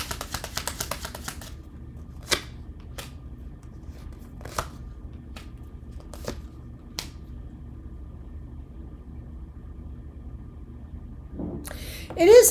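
A swollen, sticky deck of tarot cards being shuffled, a dense riffling burst at the start followed by scattered sharp card snaps and taps in a quiet room, with a rustle near the end.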